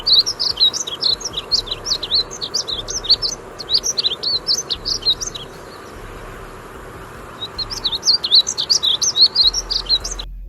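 Painted bunting song, quick bright chirping and warbled phrases repeated over and over, loud and close, with a short pause in the middle, set against a steady low background hum.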